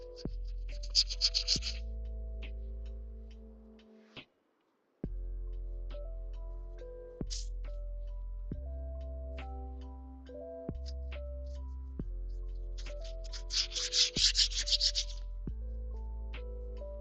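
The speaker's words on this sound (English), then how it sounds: "Let's give it once over with a 400 grit." Hand sanding with 400-grit sandpaper gives two short, raspy bursts of scrubbing strokes, one near the start and one near the end, over steady background music.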